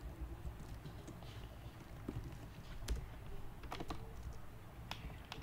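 Typing on a computer keyboard while writing Lua code, with quiet close clicks of keys in short bursts and scattered taps over a soft steady background.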